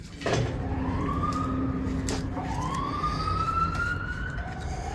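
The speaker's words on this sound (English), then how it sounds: "I'll wait for the sirens." A wailing siren rises and falls in long sweeps over a steady rumbling background, sounding some distance off and continuing throughout.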